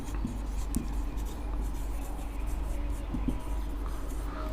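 Marker or chalk writing on a classroom board in an electrician training lesson, faint scratchy strokes in short bursts over a low steady hum.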